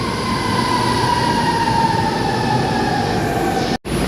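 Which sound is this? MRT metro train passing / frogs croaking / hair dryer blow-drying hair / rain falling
MRT metro train passing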